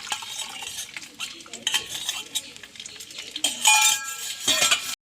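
Sambar powder mixed with water poured into a cooking pot for sambar, with clinks of a utensil against the pot and a steady sizzle, growing louder and brighter toward the end.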